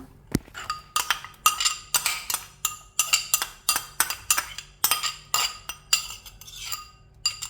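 Dishes and a bowl clink repeatedly as freshly picked mulberries are moved into another bowl for homemade jam, a steady run of close, bright taps and knocks with no talking.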